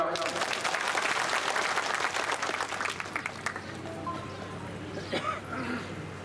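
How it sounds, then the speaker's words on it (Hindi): Crowd clapping at an outdoor Lok Sabha election rally in Narwar, Gwalior, a loud dense wash of applause that thins and fades over the last seconds while a voice carries on faintly. "मेरी महिलाएं अगर ठीक किया तो ताली बजाओ"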